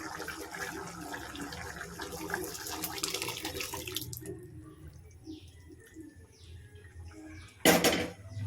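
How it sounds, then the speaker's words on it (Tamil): Cooked lentils tipped into a drumstick sambar in Tamil home cooking: a thick, continuous liquid pour and splashing that thins to quiet trickles and drips, then a brief final gush. "ஸோ இப்போ பருப்பு இதோட ஆட் பண்ணிடலாம். காயில் எடுத்து ஊற்றிடலாம்."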